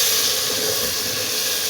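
Water hits a hot pan of sautéed tomatoes and sizzles into a loud, steady steam hiss that holds unbroken, close by.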